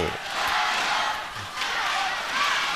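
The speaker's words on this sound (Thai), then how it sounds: "ยังมีกองเชียร์แล้วก็เป็นกำลังใจให้" Chinese supporters cheer at a women's sepak takraw gold medal match between Thailand and China at the 2010 Asian Games, a loud sustained crowd roar with rising and falling swells of shouting.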